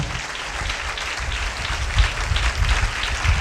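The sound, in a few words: congregation clapping hands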